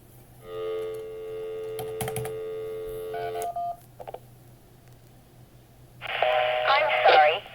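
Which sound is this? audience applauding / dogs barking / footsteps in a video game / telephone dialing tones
telephone dialing tones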